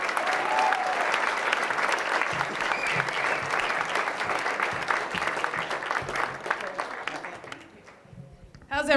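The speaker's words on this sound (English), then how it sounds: "Clap for Jessica." An audience claps loudly for Jessica Larche at a live storytelling event, dense sustained applause that tapers near the end before a voice begins.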